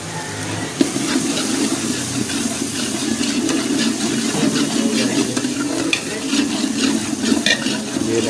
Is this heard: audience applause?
no